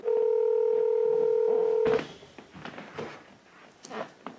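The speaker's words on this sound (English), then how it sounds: "So I'm going to play a clip of Amber on the phone giving me completely wrong directions" A telephone call opens with a steady, loud dial tone lasting about two seconds, which cuts off abruptly and gives way to faint clicks and line noise.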